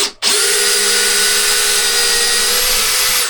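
A DeWalt XR drill drives a fastener, starting abruptly and holding a loud, steady high-pitched whine with a constant motor tone for about three seconds before stopping.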